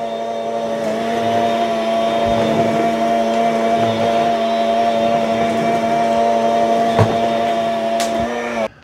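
Several Bissell SpinWave spin mops running together on a floor produce a loud, steady motor whine with a strong tonal hum, continuous for several seconds before cutting out at the end.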